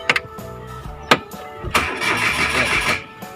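A Chery QQ car cranking on its starter and failing to start, with short bursts of whirring cranking separated by pauses, then a longer grinding crank, close and fairly loud with people talking briefly.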